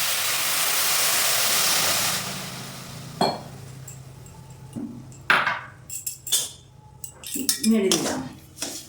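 Sugar and water being stirred in a hot pan. A sizzling hiss fades out over the first couple of seconds, followed by a series of sharp metallic clinks and scrapes of a utensil against the pan.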